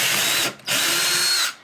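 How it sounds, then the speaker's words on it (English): Power drill fitted with a Forstner bit boring pre-drilled washer holes into wood, two loud close bursts of steady whining drilling separated by a brief pause, with no talking. "you're going to want to use a Forstner bit to pre-drill your holes"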